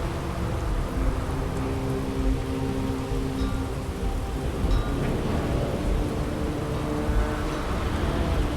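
Steady rain and rumbling thunder of a thunderstorm over the lightning-powered city of Neon in the video game Starfield, a dense, continuous wash of storm noise throughout with low rolls.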